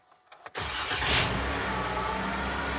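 A 2017 Jeep with the 3.6 engine cranks and fires up after a few faint clicks, then settles into a loud, rough idle with a steady metallic clatter that fits a timing chain rattle.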